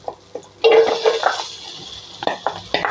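Onion goes into hot butter in a pan for palak soup, giving a sudden burst of sizzling with clanks of utensils against the pan and a few stirring scrapes, close and moderately loud.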